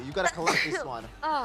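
A single sneeze bursts out amid casual chatter among players during a Mobile Legends match session, sharp and close, with voices talking before and after it.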